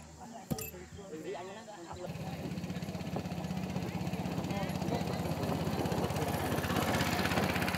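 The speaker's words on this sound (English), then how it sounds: "The train is just a bamboo panel set atop some wheels and installed with the cultivator engine" Cultivator engine fitted to a bamboo-panel rail cart on wheels, a rapid chugging putter starting after a brief knock and running steadily and fairly close, with talk over it.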